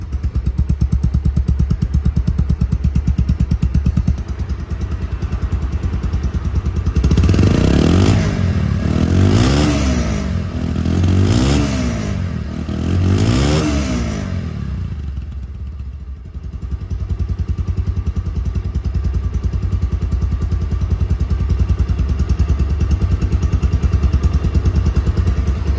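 A second-hand Bajaj Pulsar double-disk ABS motorcycle idles steadily and loud, then is revved in several rising and falling bursts before settling back to a smooth, continuous idle, heard close with no talking.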